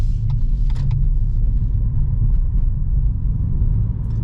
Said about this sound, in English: This is the car doing its thing and recuperating the energy